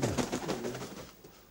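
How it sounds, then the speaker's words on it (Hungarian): Heavily feathered pigeons at a breeder's loft coo close by in a short, throaty burst that softens and fades within about a second, with no talk over it. "Nagyon tollas galambok."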